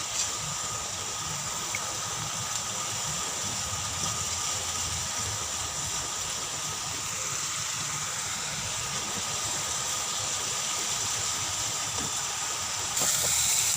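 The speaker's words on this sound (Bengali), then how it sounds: "পেঁয়াজটাকে আমি ভালো করে কষিয়ে নেব, যাতে পেঁয়াজের যে রসটা জলটা থাকে সেটা যেন বেরিয়ে যায়" Onions frying in a pan to cook off their moisture, a steady loud sizzling hiss that runs unbroken throughout, close and with no talk.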